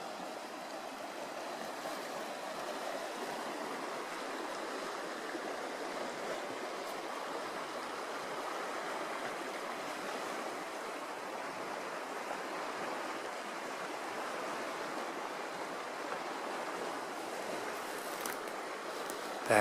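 River water rushes steadily and evenly, a continuous broad hiss of flowing current with no voices.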